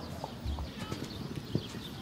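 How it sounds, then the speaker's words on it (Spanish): A horse's hooves on a show jumping course at the Andalusian championship in Jerez de la Frontera, a light, uneven clip-clop of strides at moderate distance in a quiet arena. "en pista caballo César de Diver, montado por Paula del Salto"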